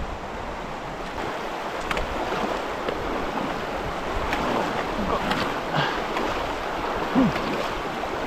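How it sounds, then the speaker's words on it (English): The Saskatchewan River, glacial meltwater, being forded on foot: a broad, steady rush of flowing water with gusts of wind buffeting the microphone and a few splashes, no voices. "about to ford the Saskatchewan River."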